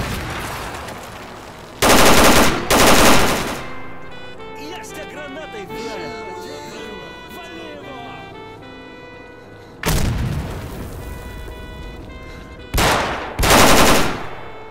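Grenade blasts and bursts of gunfire in the video game STALKER, loud booming hits early and again near the end, with quieter radio jazz and voices shouting in between.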